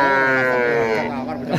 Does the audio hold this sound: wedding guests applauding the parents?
no